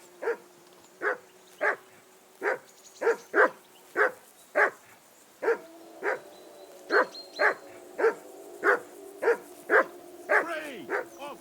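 A dog in the medieval open-world game Kingdom Come Deliverance 2 barks repeatedly in a steady run of about eighteen sharp, evenly spaced barks, close and loud over a quiet background.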